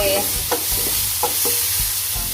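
Minced pork and plenty of chili stir-fried in a hot pan, a steady sizzle with repeated scraping stirs of the spatula, close and continuous.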